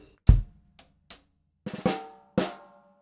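A short drum kit phrase with a drag: a low kick, a couple of quick light taps, then two crisp snare hits, close and isolated.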